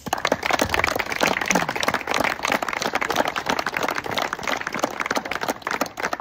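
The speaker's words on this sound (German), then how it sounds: "Ein riesen Applaus für unsere Influencer-Crew, die Unsafe Bros." Steady applause and clapping from a crowd at a turbo-kart race in Wohlen, greeting the Unsafe Bros influencer crew, dense and continuous with no break.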